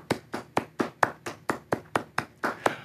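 At-home clapping for award winners and inductees of the 2020 virtual Science Innovation Hall of Fame Awards: about a dozen sharp, evenly spaced claps from a single pair of hands, close and fairly quiet, with no talking.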